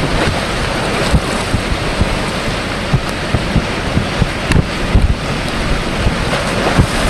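Strong wind gusting over open water and waves slapping against a floating EZ Dock in extreme weather, a steady roaring wash with frequent small knocks and splashes, close and continuous, no voices.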